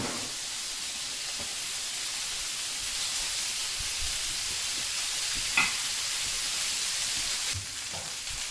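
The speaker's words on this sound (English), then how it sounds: "I'm gonna get my olive oil in the bottom of my cast iron skillet, 1 tablespoon, and then I'll get these cutlets or these sirloins in the bottom" Sirloin steaks searing in olive oil in a cast iron skillet give a steady, loud, close sizzle that holds evenly throughout, with a faint clink near the end.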